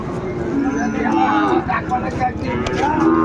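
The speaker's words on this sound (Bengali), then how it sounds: "শাহিওয়ালের ষাঁড় বাচ্চা" A Sahiwal bull calf lows amid a busy cattle market, short moos mixed into steady crowd noise and nearby talking voices.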